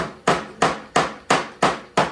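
A body hammer taps sheet metal during MIG welding work, six evenly spaced sharp metallic strikes, each ringing briefly, loud and close, with no voices.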